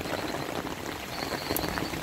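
Steady rain falling outdoors in Burundi, a dense even hiss of drops that holds at a constant level with no voices.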